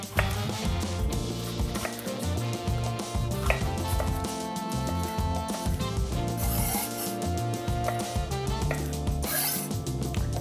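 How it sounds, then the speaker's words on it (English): A knife chops a yellow pepper on a cutting board in a quick, steady run of close taps, with music playing loudly underneath throughout. "And then just finishing with this yellow pepper."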